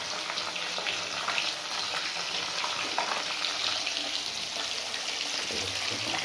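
Koi fish, about 1.5 kg, deep-frying in hot oil, giving a steady, dense sizzle and hiss with fine crackling that runs unbroken throughout, close up and with no voices.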